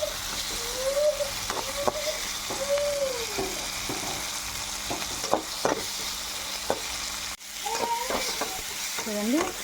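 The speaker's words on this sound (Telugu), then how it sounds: "ఆల్మోస్ట్ మనకి ఫైనల్గా బాగా వేగిపోయాయి, పచ్చివాసన లేకుండా" Onions, garlic and tomatoes fry in a pan, giving a continuous close sizzle broken by repeated stirring scrapes, with a few faint tonal sounds in the background.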